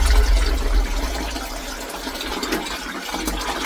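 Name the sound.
water poured from a watering can into a plant pot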